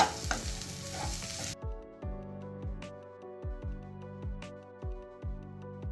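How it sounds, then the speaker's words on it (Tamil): Orange chicken tossed with chopped spring onions in a pan, a dense sizzle and clatter that drops away to a quieter rhythm of repeated spoon scrapes and knocks, close by, without talk. "இந்த மாதிரி கட் பண்ணி போட்டுக்கலாம் வெங்காயத்தாள். நல்லா மிக்ஸ் பண்ணிக்கலாம்."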